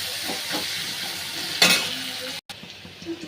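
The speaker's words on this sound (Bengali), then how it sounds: "এবার পেঁয়াজ কুচিগুলো দিয়ে দিলাম। ভালো করে একটু লাল লাল করে ভেজে নিতে হবে।" Chopped onions fry in a pan with a close, steady sizzle, a sharper hissing burst as they are stirred, and soft scraping under it.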